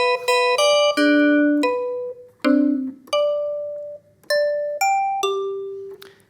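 Bell tones synthesized in Harmor ring out one after another, each a bright struck chime with a slowly fading tail, some overlapping, clear and close with no talking.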